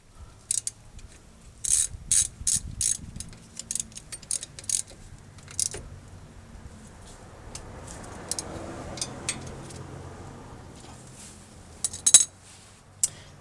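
Socket wrench with a 14mm socket tightening brake bolts on a 2006 Toyota Sienna, heard as quiet clicks and metallic ticks in short irregular bursts, close by, with faint background hum and no talking.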